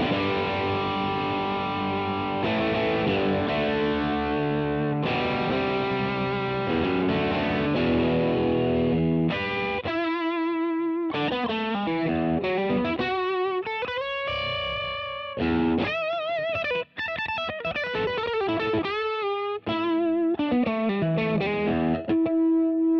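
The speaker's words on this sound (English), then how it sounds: "Now let's hit with a little distortion on here. How it sustains." A Fender Custom Shop 1959 Stratocaster Relic played through heavy distortion, sustained chords ringing out and then fuzzy lead notes and bends, loud and continuous with no talking.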